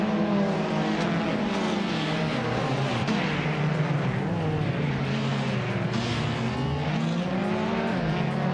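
A 2013 Peugeot 208 R2 race car in a racing video game, its engine droning steadily with rising and falling revs through gear changes on the Du Grand Sambuc Reverse stage, loud and continuous.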